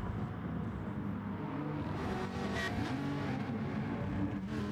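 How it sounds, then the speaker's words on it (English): GT3 race cars in a sim racing game at the Goodwood circuit drone past at full throttle, a steady loud engine roar with rising and falling pitch and no talk. "That was FailRace zapping past into second position."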